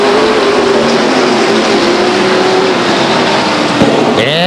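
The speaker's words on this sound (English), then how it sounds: "Drivers are headed for the acceleration line now. And here they go. There's your green flag." Stock race cars roaring off the green flag start at Stockton 99 Speedway in 1999, a loud, dense, sustained engine drone from the whole pack, with a brief whine near the end.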